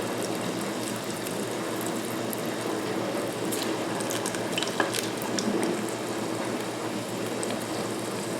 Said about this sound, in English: Start frying up our shrimp.